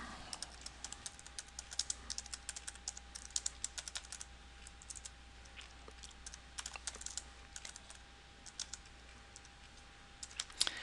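Someone types on a computer keyboard in quick, uneven bursts of soft clicks over a faint steady hum, quiet and close.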